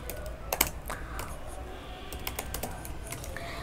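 Someone types on a computer keyboard with irregular clusters of close, crisp key clicks and short pauses over a low background hum.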